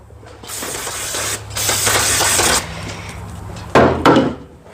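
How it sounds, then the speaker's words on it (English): Brake cleaner sprayed from an aerosol can onto years of grime on a go-kart part: loud, close hissing bursts, one long spray followed by shorter blasts, with no talk. "Good old brake cleaner. It'll clean everything."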